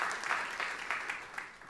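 A congregation at a church sermon claps warmly together, the applause fairly distant and soft, with a steady patter of many hands over the short stretch.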